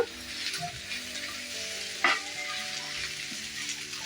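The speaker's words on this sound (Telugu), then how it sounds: "ఇలా మధ్యలో మిక్స్ చేసుకుంటూ బాగా ఎగ్ని ఫ్రై అయ్యేదాకా ఫ్రై చేసుకోవాలి ఎర్రగా." Egg bhurji frying in a pan with a steady close sizzle, a scrape of stirring now and then and one sharper clatter near the middle, no voices.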